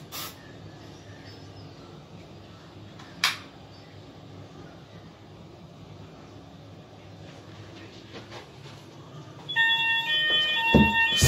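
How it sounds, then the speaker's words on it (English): Mostly quiet room noise with a sharp knock, then a shrill, high-pitched smoke detector alarm from a C-Tec CFP fire alarm system test starts up loudly near the end. "Downstairs we'll be testing the smoke detector."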